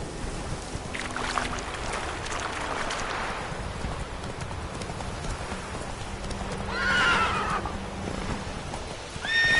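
Hoofbeats of Roach, the horse in The Witcher 3 video game, clip-clopping at a steady pace over ambient game sound, with a whinny and a brief rush of noise near the end.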